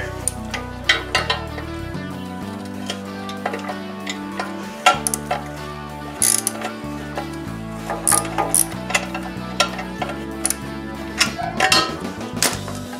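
A ratchet wrench tightens a skid plate bolt on a BMW F800GS motorcycle, giving repeated close, crisp clicking bursts throughout over a steady background, with no speech.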